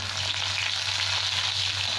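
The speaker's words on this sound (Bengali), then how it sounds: "তেলের মধ্যে একটু পাঁচ ফোড়ন দিয়ে দিলাম। পাঁচ ফোড়নটা ভাজা হয়ে গেছে, এবার একটা পেঁয়াজ দিয়ে দিলাম" Chopped onion hits hot oil already crackling with panch phoron, the Bengali five-spice mix, for a fish curry with taro and potato; a dense, steady sizzle runs throughout with no voices.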